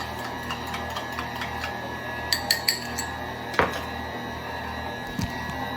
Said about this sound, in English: Then I'm going to give it a nice stir.